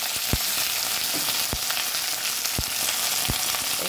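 Finely chopped bottle gourd hitting a hot pan for a creamy lauki curry, a steady loud sizzle and hiss with a few sharp knocks of stirring, no voices.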